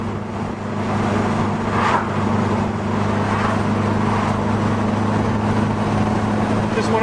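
A 1973 VW Super Beetle cruises a highway at about 65 mph, its engine and road noise forming a loud, steady, unbroken rumble throughout.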